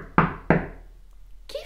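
Two sharp knocks on a door sound close and loud in quick succession, followed by a brief quiet stretch and a short voice at the end.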